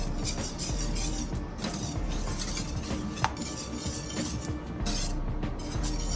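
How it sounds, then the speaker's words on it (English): Cornmeal porridge stirred steadily in a pot over a low flame: a continuous close scraping swirl of the spoon, with occasional faint clinks against the pot, and no voices. "You have to keep stirring for a while and"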